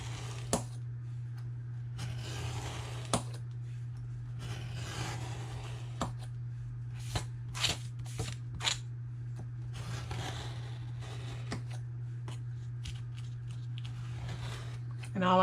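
A finger blade slices paper along a ruler in a series of quiet, short, scratchy strokes with pauses between them, over a steady low hum.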